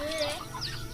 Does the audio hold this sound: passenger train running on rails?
no